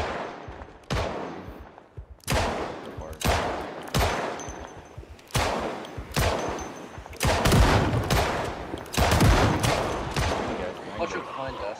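Gunfire in the zombie survival game Project Zomboid, a dozen loud sharp shots at irregular intervals with bursts growing denser toward the end, voices talking faintly underneath.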